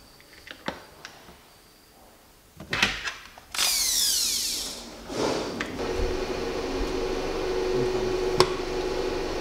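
A power drill bores holes in a door panel while a gas spring mechanism is fitted, with a few light knocks before a loud whirring burst and then a steadier, quieter drone.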